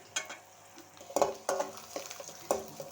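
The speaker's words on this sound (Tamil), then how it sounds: "வெங்காயம் நல்லா வதங்கணும்." Chopped onions sauté in a pan for a greens poriyal, with soft sizzling beneath several sharp scrapes and clinks of a spatula stirring against the metal pan, heard close up.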